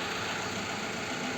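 A 2-litre 3S engine in a Toyota Gaia idles with a worn connecting rod knocking, a steady close mechanical rumble with faint repeating taps throughout, no voices.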